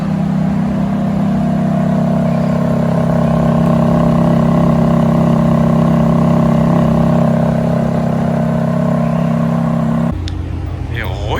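A McLaren 720S Spider supercar arrives on the streets of Monaco, its engine a steady, close, humming drone that shifts near the end, with people talking over it.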